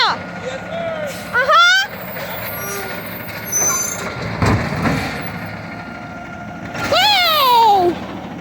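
A garbage truck's air brakes squeal and hiss in sharp descending whines, with a loud release near the start and again near the end, over engine rumble and nearby people talking.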